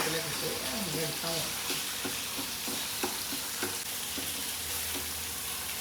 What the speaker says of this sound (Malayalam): മീൻ വറുക്കാനുള്ള ചട്ടി ചൂടായിട്ടുണ്ട്. എണ്ണ ഒഴിച്ചു കൊടുത്തു.